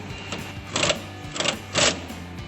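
Ratchet clicks come in two short, loud bursts as a wrench snugs the front strut bolts on a GMC Sierra 1500 fitted with a Rancho RS5000X loaded strut, heard up close and without talking.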